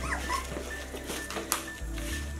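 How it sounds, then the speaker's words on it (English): A dog and newborn puppies whimper softly and faintly indoors, thin high whines over a steady low hum, with brief yips. "Those are your puppies, Chocolate."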